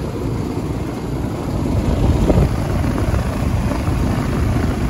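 An outdoor air conditioner unit runs after a bad capacitor was replaced, its fan giving a steady, close broadband whoosh with a low rumble that swells slightly midway and holds constant throughout.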